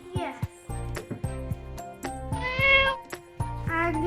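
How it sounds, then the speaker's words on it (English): A cat meows a few times, close by and clearly audible, mixed in among children's and adults' voices talking in the room. "And we have a cat somewhere."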